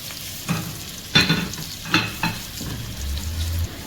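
Onions, green chilies and ginger frying in a pan for moong dal khichdi, a steady sizzle broken by a few clear stirring scrapes and clacks, close and moderately loud, with no voices.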